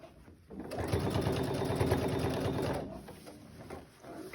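A sewing machine runs a quick burst of stitching along a seam on a small crossbody bag, a steady rapid whir lasting a couple of seconds before stopping, fairly quiet and close.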